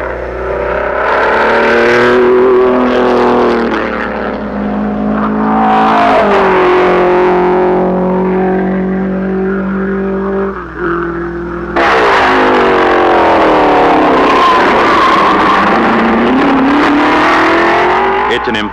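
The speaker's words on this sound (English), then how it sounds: "Gordini's Simcas have ordinary Fiat 1100 engines. This Simca is in Brazil for the Grand Prix at Rio de Janeiro." A Simca racing car fitted with an ordinary Fiat 1100 engine, entered in the Grand Prix at Rio de Janeiro, Brazil, revs loud and close, its engine note rising and falling through repeated gear changes, with a harsher burst of acceleration in the second half.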